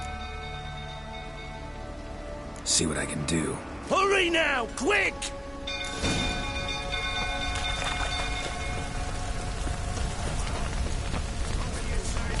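Steady rain falls in The Witcher 3 beneath people talking urgently, the patter continuing as a soft hiss once the voices stop.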